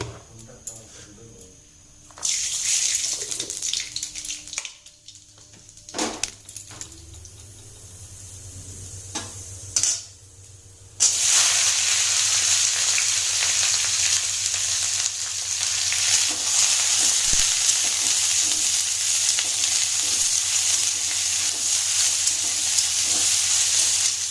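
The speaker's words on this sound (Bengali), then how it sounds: "আলু ফুলকপি ভাজাটা বসিয়ে দিই" Potato and cauliflower hit hot oil and sizzle loudly and steadily, with some clattering of stirring before the frying starts.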